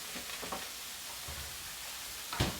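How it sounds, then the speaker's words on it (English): Frittata ingredients frying in a pan with butter, a soft, steady sizzle, a few faint clicks and a brief louder clatter near the end. "While that's frying, I'm going to add some butter to this as well."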